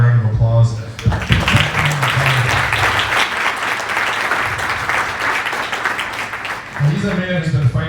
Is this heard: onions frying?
no